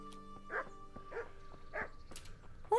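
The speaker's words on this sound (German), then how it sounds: "Hundi." A dog in the medieval video game Kingdom Come: Deliverance barks three times at an even pace, each bark clear and moderately close, with no talk over it.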